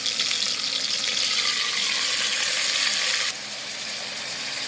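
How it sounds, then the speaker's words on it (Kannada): Nati-style mutton fries in oil in a pot for mutton sambar, a loud, dense, continuous hiss of sizzling that drops slightly in level near the end, with no voices. "ನೋಡಿ, ಈ ಕಡೆ ಮಟನ್ ಎಣ್ಣೆಯಲ್ಲಿ ಸ್ವಲ್ಪ ಚೆನ್ನಾಗಿ ಫ್ರೈ ಆಗಬೇಕು."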